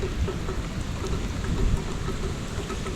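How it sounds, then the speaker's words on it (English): Heavy rain pours during a thunderstorm over a new concrete driveway, a dense, loud, continuous hiss of rain with low thunder rumbling underneath. "we got a big thunderstorm going on right here"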